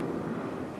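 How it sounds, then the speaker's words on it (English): A steady low rumble of an airplane passing at a distance, smooth and continuous with no voices. "You can probably hear the airplane outside"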